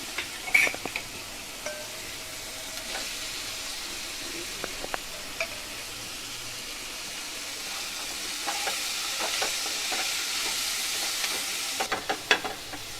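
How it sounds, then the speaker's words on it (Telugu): Capsicum pieces are stirred into frying tomatoes for tomato rice, with a steady low sizzle running throughout, scattered clicks and scrapes of a spoon against the pan, and a slightly louder patch toward the end. "ఇలా టమాటాలు గోలినాక ఇప్పుడు ఇందులో క్యాప్సికమ్ ముక్కలు వేసుకోవాలి."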